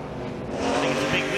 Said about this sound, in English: Kyle Busch, Clint Bowyer, Blaney and Byron on the racetrack right now